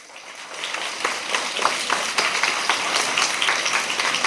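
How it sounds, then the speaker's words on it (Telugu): A crowd applauding at an Independence Day speech in honour of Bhagat Singh, with dense, sustained clapping that stays fairly loud throughout. "ఆ భగత్ సింగ్కు చప్పట్లు కొట్టాలి"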